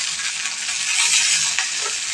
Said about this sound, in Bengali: পেঁয়াজটা ভাজা হচ্ছে, খুব একটা লাল করবো না